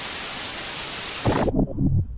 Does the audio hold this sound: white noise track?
yes